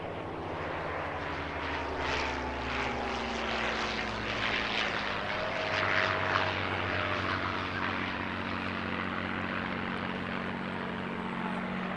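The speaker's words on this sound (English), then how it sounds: "let's listen to the sound of these engines." Piston aircraft engines drone loudly and steadily with a throbbing propeller hum, pitch shifting slightly as the plane passes, no talking.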